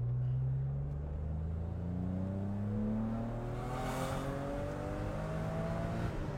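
A car engine revs and accelerates on a night street, its rising harmonic whine climbing steadily in pitch over a steady rumble, close and fairly loud with no talking.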